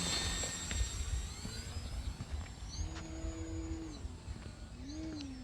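Electric motor of a Top RC Lightning V2 1.5 m RC sailplane in flight, a steady whining drone with pitch rising and falling as it passes, heard alone at a moderate distance.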